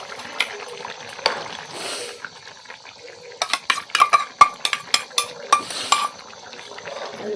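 A spoon stirs roasted onion-coconut paste into fresh pavta bean usal in a Konkan village kitchen. Soft scraping gives way to a quick run of sharp metallic taps against the pot, close and clear, with no talking.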